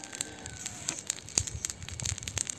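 Hot oil pops and crackles inside a kazan over a wood-fired stove, giving quick, sharp, uneven bursts, close by and fairly quiet, with no voices.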